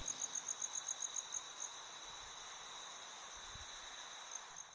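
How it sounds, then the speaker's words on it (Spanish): Crickets chirp in a quiet field at night, a rapid pulsing trill at first that settles into a continuous faint ringing over soft background hiss. "son grillos, un sonido tan familiar que a veces ni lo notamos"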